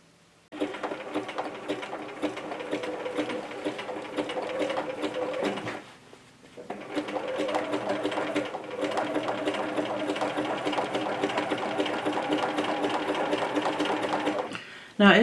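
A sewing machine stitches with a wing needle through fabric, a steady close mechanical whir running in two long bursts separated by a brief pause.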